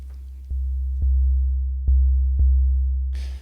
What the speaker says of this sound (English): we have a soft, perfect sine wave.